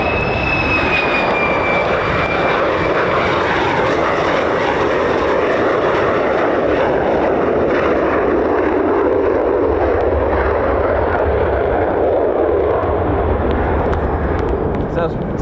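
F-35 fighter jet passing at RAF Lakenheath, a loud sustained roaring rumble that holds strong through the whole stretch, with someone talking over it.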